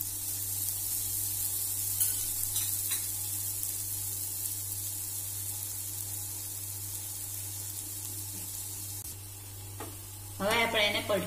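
A mixed-flour puda pancake cooks in a spoonful of oil on a pan, making a soft, continuous sizzle over a low steady hum for about ten seconds before a voice briefly starts speaking near the end.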